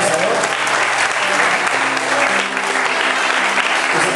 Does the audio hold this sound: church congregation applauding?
yes